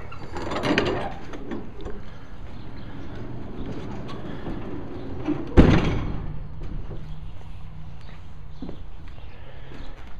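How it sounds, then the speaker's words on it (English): A tilt-down rear ramp door drops open on a 2005 Cargo Craft 7x16 enclosed cargo trailer, with handling clatter first and then a single loud thump and rattle midway through, followed by a low lingering rumble. "this is a ramp on the back, a tilt down instead of barn doors, which I wanted. I'll go ahead and open it up"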